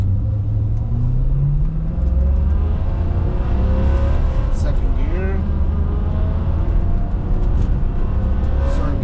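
A car with an F1-style automatic transmission pulls away from a green light. The engine rumbles and rises in pitch through the gears, and a nearby vehicle sound sweeps past mid-clip.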